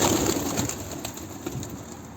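Soft, low pigeon cooing close by over a steady background hiss.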